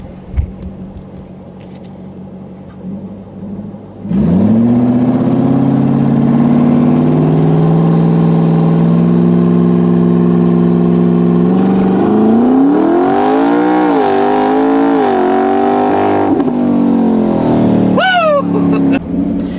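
A twin-turbo Ford F-150 pickup engine idles, then revs hard to 3,000 RPM and holds a loud, rising roar before the pitch sweeps up as it launches, with a brief high squeal near the end.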